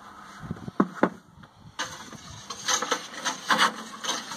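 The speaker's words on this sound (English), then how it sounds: "Oh, that whisk just cuts through that." A whisk stirs a thick scotch ale grain mash with amber malt, making close, uneven scraping and rubbing swishes that grow busier and louder as the stirring picks up.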